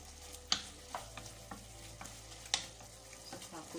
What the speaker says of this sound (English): We'll check how the beef is cooking. I'm gonna keep mixing it.